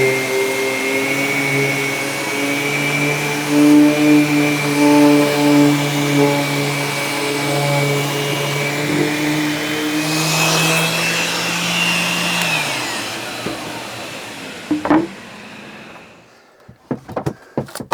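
Power sander running steadily on veneer core plywood with 180 grit, a continuous whirring drone with shifting pitch for about thirteen seconds before winding down, followed by a few clunks and handling knocks.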